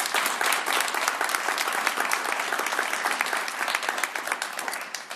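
Dense, sustained audience applause fills the whole stretch, many hands clapping loudly and evenly without a break after a speech on climate policy at WSU Tri-Cities.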